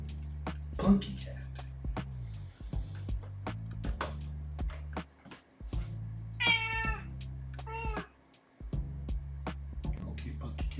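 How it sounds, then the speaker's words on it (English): An indoor cat gives several clear, drawn-out meows up close, mixed with scattered speech and light background noise. "Okay, Punky cat"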